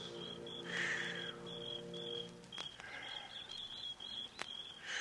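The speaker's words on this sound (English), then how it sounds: "The sound of birds and crickets seemed loud in my ears" Radio drama ambience of chirping birds and crickets, steady high insect trills with scattered bird calls and a few sharp clicks, fairly quiet and with no talk.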